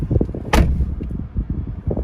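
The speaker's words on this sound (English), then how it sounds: "So when I open the door now, of course it's not turned on." Door of a 2021 Jeep Gladiator Rubicon opening, a single sharp latch clack near the start, followed by low rumbling thumps and handling noise close by.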